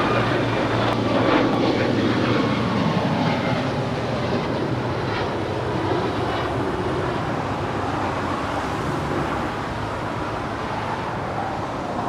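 A United airliner takes off from runway 25 right at Los Angeles International Airport, a broad sustained jet engine roar that holds steady and loud for the whole stretch, heard from a distance, with no talking.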